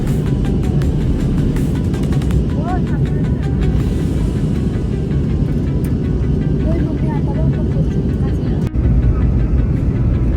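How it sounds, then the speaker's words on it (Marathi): A passenger airplane landing at Indore on a flight from Mumbai, heard from inside the cabin as a loud, continuous engine roar and rushing hum, with a brief thump near the end. "आता मी लँडिंगला सुरुवात करतोय"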